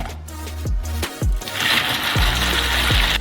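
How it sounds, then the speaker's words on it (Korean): A motorized kitchen blender grinds hard hazelnuts with milk chocolate, sugar and cocoa into paste, a loud, steady whir broken by repeated rhythmic thumps as the contents churn and knock. "뚜껑을 덮고 믹서기를 설치해주세요."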